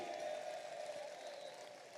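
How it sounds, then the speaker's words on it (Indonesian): Faint, continuous clapping from a crowd, a dense patter of many hands that sounds distant and steady. "tepuk tangan nih"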